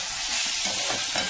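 Meat and paneer frying in a pan, a steady close sizzle with light stirring scrapes, heard alone with no talk.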